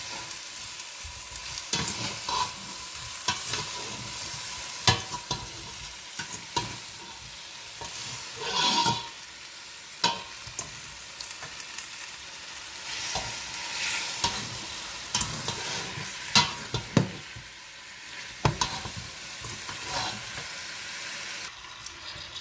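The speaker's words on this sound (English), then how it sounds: "Just keep on stirring it till these are stuffed." Homemade marmalade cooks in a pan with a continuous soft sizzle and hiss, while a spoon stirs and presses it down in repeated scraping strokes, close-up, with no voices.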